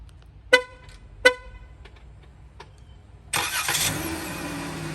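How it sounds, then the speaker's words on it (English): A 2020 Dodge Grand Caravan SXT on remote start gives two short horn chirps, then after a pause its engine cranks and catches into a steady, close idle. "There is a remote start."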